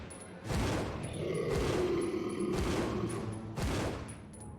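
Gunfire unloaded on a boss in the video game Resident Evil Zero: four loud, evenly spaced gunshots with booming, ringing tails fill the space, with no talking.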